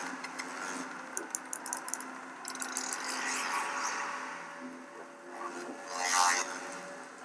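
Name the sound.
sonified gravitational waves of light black hole falling into heavy black hole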